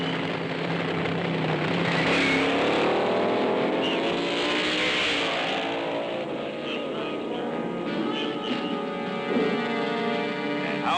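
A roughly 1,000-pound fuel dragster with an engine of over 1,000 horsepower roars loudly at a drag race, its harsh engine note swelling and shifting in pitch as it revs, continuous throughout.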